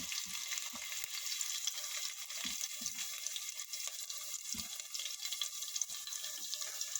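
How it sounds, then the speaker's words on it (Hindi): Chilies frying in hot oil for gobi manchurian, a steady close hiss of sizzling with occasional low thumps and stirring knocks, no talk. "अभी मैं उसमें ये चिलीज डाल दूंगी फ्राई करने के लिए।"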